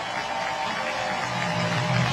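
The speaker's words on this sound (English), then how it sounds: "And a huge ovation right now by the crowd." Football match crowd giving a loud, sustained ovation after a four-goal player's achievement, a broad steady wash of applause and cheering that swells slightly toward the end.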